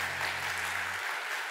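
Sunday-service congregation applauding a newly registered elder couple, a steady wash of clapping with a low hum underneath that fades out partway through.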